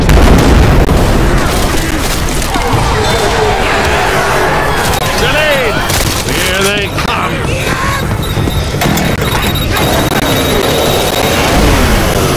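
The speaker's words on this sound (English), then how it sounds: "We can fire that big ass gun." A big mounted gun fires in the zombie shooter Left 4 Dead 2, producing a dense, continuous barrage of loud booming blasts and explosions that fill the whole stretch without pause, with voices talking faintly underneath.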